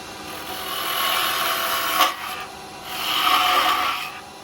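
Small quarter-inch tool cutting wood on a lathe, a close scraping, rasping whir that swells around one and again around three and a half seconds, with a slightly vibrating, uneven texture and no voices.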